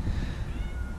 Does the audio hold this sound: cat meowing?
yes